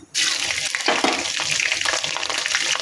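Green chilies and whole spices hit hot oil in a pan, setting off a sudden, loud, close sizzle that holds steady and crackling with no talk over it.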